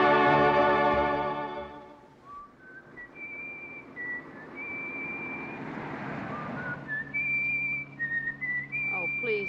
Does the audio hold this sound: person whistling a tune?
yes